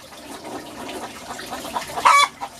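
Chickens in a greenhouse aquaponics setup cluck continuously and fairly close, with a louder, sharper squawk burst near the end.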